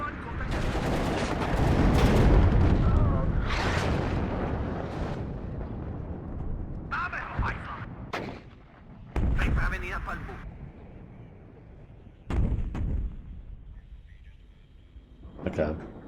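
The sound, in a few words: grenade launcher firing and explosions in video game WARNO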